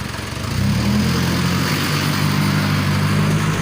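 A tractor engine runs close by at a steady mid-pitched drone, swelling in loudness during the first half-second and then holding an even, rumbling tone.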